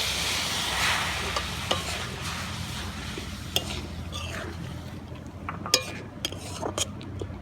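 Liquefied powdered milk added to a besan burfi mixture in a pan and stirred: a steady wet hiss and churning, with scattered light metallic clinks of the spoon against the pan, close by.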